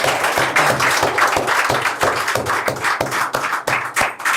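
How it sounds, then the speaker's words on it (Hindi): Audience applause at a Hindi poetry recital: dense, loud clapping with a steady, pulsing rhythm that runs for a few seconds. "एक बार आप फिर से तालियां बजा दो।"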